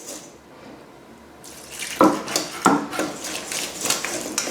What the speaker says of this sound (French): rajouter l'eau petit à petit. Et en même temps, il faut bien fouetter pour ne pas avoir de grumeaux.